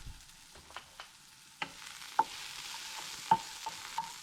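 Food cooking in a frying pan, a quiet steady sizzle broken by a handful of light clicks and taps of a utensil against the pan, close by and with no one talking.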